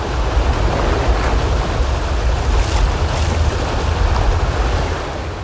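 A strong water current rushes over slippery stones, a loud, steady, close roar of churning water that continues without break, with no voices.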